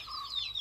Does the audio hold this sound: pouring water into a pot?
no